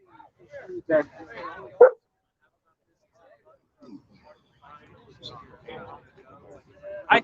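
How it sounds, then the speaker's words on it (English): A dog gives a few short barks and yips outdoors at night, mixed in with people talking over a call, with loud isolated bursts near the start and end. "Puppy dog's not behaving out here."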